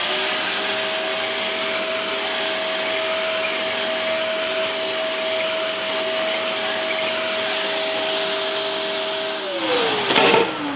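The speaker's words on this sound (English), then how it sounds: "you're just going to grab your vacuum with a nice fitting on the end" Vacuum cleaner with a fitted nozzle cleaning a Levoit 400S air purifier filter, a loud steady whine holding constant pitch before dropping sharply as the hose is moved near the end.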